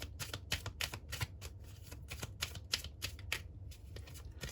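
Angel oracle cards are shuffled by hand, a fast continuous run of crisp riffling flicks in close succession, soft and near, with no talking.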